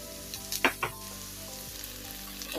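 Green chillies hit hot oil in which mutton was browned for an okra mutton stew, giving a steady close sizzle with a few sharp crackles and stirring bursts early on.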